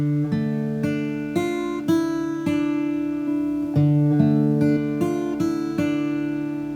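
Fingerstyle guitar playing one measure of a 1950s chord progression, steady plucked notes and bass strums ringing clearly and close with no talk.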